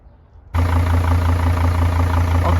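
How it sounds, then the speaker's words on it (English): A 2005 Mercedes-Benz Sprinter van engine catches after a quiet moment and settles into a steady, loud idle with a low, even hum that holds without break. "Okay, now the truck is running and it sounds a little better than before"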